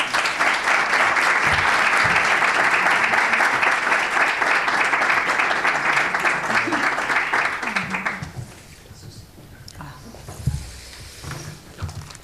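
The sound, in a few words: applause for the speaker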